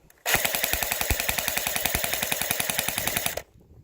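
A P90 Swordfish airsoft gun fires full auto in one loud, close burst of rapid, even shots lasting about three seconds, then stops abruptly.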